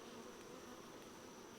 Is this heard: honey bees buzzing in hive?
yes